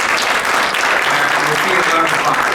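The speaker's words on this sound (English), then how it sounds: "Give yourselves a round of applause." Audience at a conference applauding, a dense steady wash of many hands clapping that fills the short stretch with voices and cheers mixed faintly underneath.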